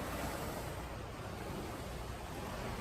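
Ocean surf at a quarry beach rolls in as a steady, dense wash of noise, close and continuous, with no voices over it.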